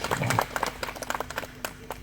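A crowd at an Islamic religious gathering claps in scattered, uneven handclaps that taper off quickly. The claps are fairly near, and a voice is briefly heard at the start.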